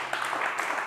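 A television studio audience applauds on an Italian Rai Uno program, a dense, even wash of clapping hands without a break.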